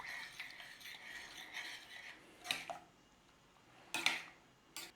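A utensil stirs chopped rosemary and dried thyme through red lentils in a pan, quiet scraping and rubbing with a few sharper clinks against the pan.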